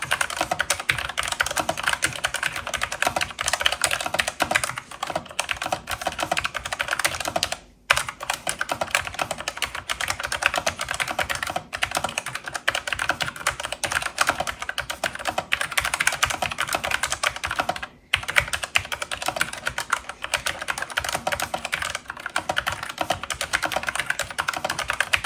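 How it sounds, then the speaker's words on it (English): Typing on a Logitech G915 TKL mechanical gaming keyboard, a fast continuous stream of crisp key clicks with brief pauses, close and clear with no talking. "this is something that you really enjoy typing, even though it's a mechanical keyboard, even though it's a gaming keyboard"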